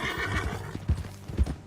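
Hooves clip-clop across a horse's ride in Red Dead Redemption 2, with a sharp whinny near the end; the steps sound close and steady, with no talking.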